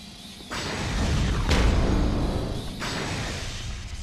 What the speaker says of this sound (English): And now we're gonna hear that explosion over and over